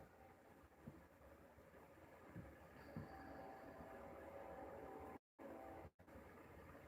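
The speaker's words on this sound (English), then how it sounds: "train comes through here at night and is loud, loud, loud." A distant train passes at night, a faint, steady rumble and rolling hum holding throughout, with two brief dropouts near the end.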